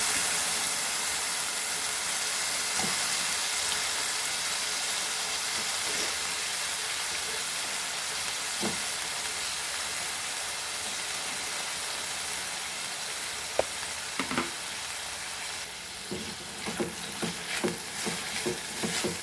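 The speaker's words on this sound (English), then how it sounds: "Now we'll fry our potatoes." Potatoes fry steadily in a pan for a Goan sausage and prawn chilli fry, a broad continuous sizzle with occasional stirring clicks and scrapes that grow busier toward the end, with no talk.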